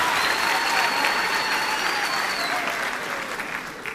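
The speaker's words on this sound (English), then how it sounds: "let us applaud the" At a regional memorial lecture in Emalahleni, a crowd applauds the provincial leadership with dense, loud, continuous clapping that fades slightly toward the end, a faint whistle or tone riding over it midway.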